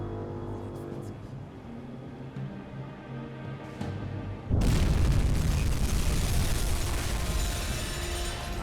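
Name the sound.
torpedo hitting cargo ship, UBOAT video game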